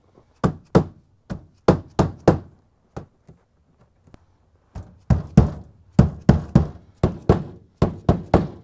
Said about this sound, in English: Use the plastic mallet to pound the gasket into the groove.